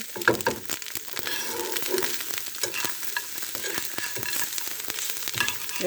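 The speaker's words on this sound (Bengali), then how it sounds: "আবারও দুই তিন দুই মিনিটের মতো ভেজে নেব নেড়ে চেড়ে" Carrots and potatoes stir-fried in a pan over low heat, a steady sizzle broken by frequent scraping stirs, close and moderately loud with no talking.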